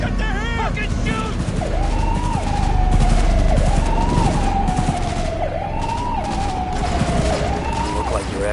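Gunfire crackles in Cyberpunk 2077 beneath a loud wailing police siren that sweeps up and down repeatedly, with voices shouting over the chaotic scene.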